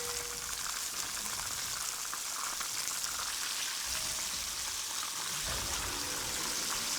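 Cornstarch-coated chicken pieces fry in hot oil, giving a steady, even crackling sizzle with a few faint pops and nothing else over it.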